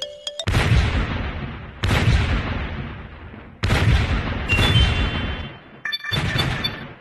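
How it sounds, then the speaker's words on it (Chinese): Cartoonish video game explosions from cherries dropped by a cherry tree plant in a Plants vs. Zombies style game: five loud booming blasts at irregular intervals, each with a sharp onset and a decaying rumble, with no talk. "会时不时从树下掉落樱桃果实并造成爆炸"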